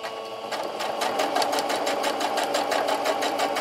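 A sewing machine stitches a homemade terry cloth sponge from fabric scraps, running with a fast, steady mechanical rattle close by for the whole stretch.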